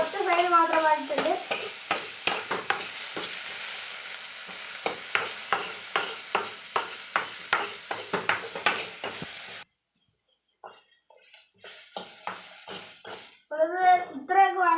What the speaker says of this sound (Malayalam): ഇത് നമ്മളിങ്ങനെ വഴറ്റുമ്പോഴത്തേക്ക് അടിയിൽ പിടിക്കാതെ നോക്കണം.